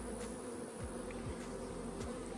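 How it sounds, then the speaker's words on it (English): Honey bees buzz steadily around frames of a two-frame nuc hive, a dense continuous hum close by with a few louder individual fly-pasts, no voices. "Look at the bees working."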